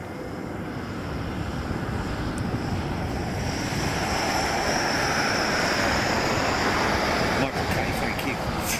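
A Beech King Air rolls out after landing on runway 7 at Ted Stevens International Airport in Anchorage, a steady broad roar of engines and wind heard from a distance without a break.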